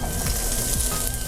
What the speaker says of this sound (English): So you hear that sizzle in there?